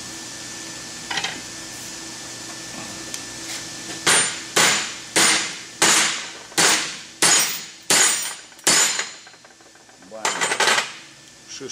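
Nine sharp metallic hammer blows in a steady rhythm, loud and close, breaking a brass-brazed cast iron joint, followed by a pause and one more strike, with faint background hum.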